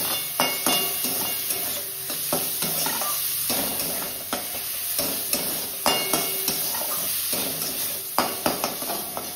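Tomato and chili fry lightly with onion in a home kitchen pan: continuous sizzling under repeated spatula stirs and metallic clinks against the pan, close and busy, with no talking.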